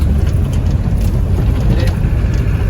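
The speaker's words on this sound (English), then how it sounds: "Now we're coming to a corner here, so I'll downshift into third gear." A 1990 Land Rover Defender 110 with the 200tdi diesel engine, driven into a corner and shifted down into third gear, gives a loud, close, continuous engine drone mixed with road and wind rumble.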